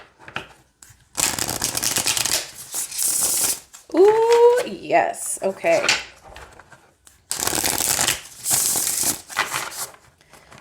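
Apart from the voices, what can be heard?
shuffling oracle cards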